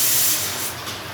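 Pressure cooker whistle blowing off steam in a home kitchen, a loud sustained hiss that gradually eases down to a softer rush.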